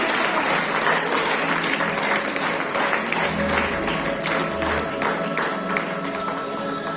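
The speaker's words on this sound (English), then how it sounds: "Round of applause, please." Sustained audience applause fills a hall at a university awards ceremony, a dense, steady clapping that continues evenly from start to finish without pause.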